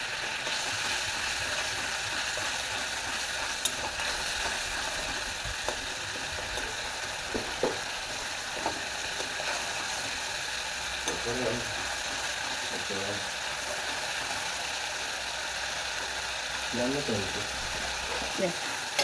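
Tomatoes sizzle steadily in a pan for mixed dal, with a spoon scraping and stirring in short bursts throughout, with no talk over the cooking.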